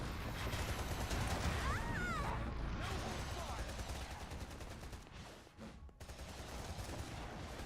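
Video game gunfire rattles in rapid bursts and sustained automatic fire during a firefight, set against whooshing effects and a busy battle mix, with voices speaking over the action.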